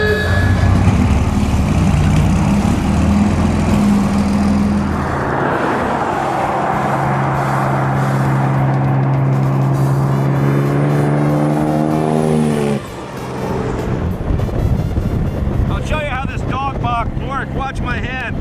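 A 1924 Bentley Twin Turbo vintage car pulls away and drives, its engine note rising through the gears under steady wind buffeting, with a brief shift break before it picks up again.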